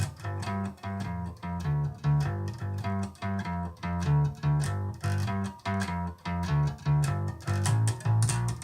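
Electric bass playing a G blues bass line up to tempo, a steady walking pattern of evenly spaced plucked notes repeating through the passage, close and clear with no talking.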